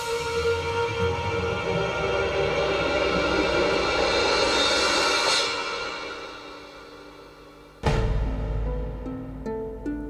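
WWII German Luftwaffe aircraft engines drone in a loud, steady roar that swells and then fades away. A sudden heavy boom follows, trailing off into rumbling.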